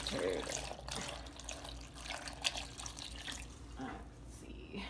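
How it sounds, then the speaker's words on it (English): Filtered water poured into a container for agua fresca, a soft splashing trickle under low background noise and indistinct room sounds. "I like to add in like filtered water"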